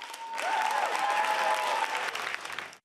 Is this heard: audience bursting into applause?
yes